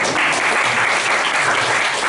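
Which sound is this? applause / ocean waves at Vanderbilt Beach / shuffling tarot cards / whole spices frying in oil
applause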